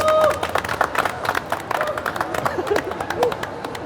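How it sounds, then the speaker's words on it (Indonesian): Crowd clapping at a busy booth at Jakarta Fair 2026 during an anniversary celebration. Dense, irregular claps ring close over lively crowd chatter and voices, sustained through the whole stretch. "Boleh tepuk tangannya dong?"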